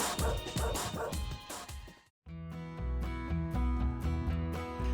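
Dachshunds bark and yip almost without pause at an outdoor dachshund meetup by a lake, a loud, dense chorus of several dogs close by.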